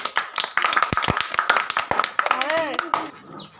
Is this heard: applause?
yes